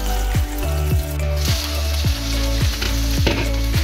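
Chicken tikka pieces fry in oil in a covered pan, a loud close sizzle punctuated by a regular series of bright spitting pops and crackles, no voices.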